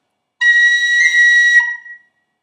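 A single high, clear tin whistle note on high B with a quick flicked pip ornament in Irish traditional style, about a second and a half long, close and alone.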